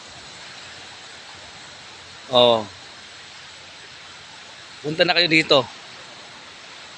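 Steady broadband hiss of sea waves at a beach in the morning, an even wash of surf that continues throughout while someone speaks two short phrases over it.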